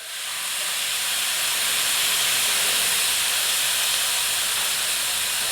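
Basil stir-fry sauce poured into a hot wok for a dry Thai kaprao stir-fry, producing a loud, steady hissing sizzle that swells in and holds for several seconds.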